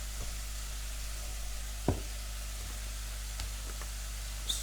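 Mushrooms frying in butter in a pan: a soft, steady sizzle with an occasional light knock of a utensil, no talking.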